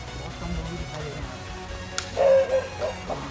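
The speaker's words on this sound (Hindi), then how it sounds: "कुत्ते भौंक रहे हैं भाई," Dogs bark at Sanjay Van in Delhi, a few sharp yelps and barks standing out midway through over a background of outdoor noise.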